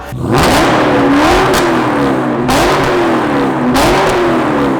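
A car engine fitted with aftermarket headers revs loudly and repeatedly, its rough exhaust note rising and falling in three pulls close by.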